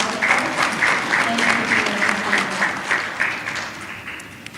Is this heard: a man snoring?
no